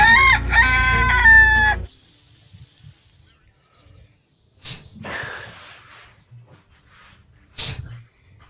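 A rooster crows loudly in a short burst at the start, followed by quieter scattered clucks and faint fowl noises, with brief pauses of near silence between.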